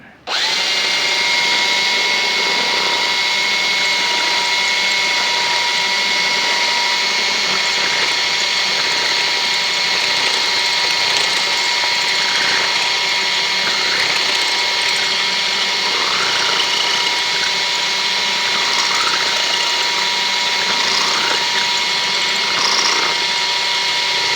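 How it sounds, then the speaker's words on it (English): A power drill with a center-point wood bit whines steadily at close range for the full length, a constant high motor drone with slight shifts as the bit works through wood while repairing a broken chair leg. "I'm going to use this drill bit to accomplish that."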